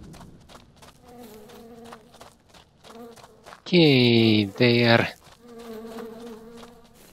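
Massive wasps in the video game Two Worlds 2 let out a loud, harsh buzz in two bursts over about a second and a half. A person talks before and after.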